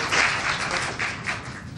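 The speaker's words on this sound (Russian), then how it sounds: "Ваши аплодисменты, уважаемые собравшиеся" Audience in a hall applauding, a dense wash of many hands clapping at an even moderate level throughout the short stretch.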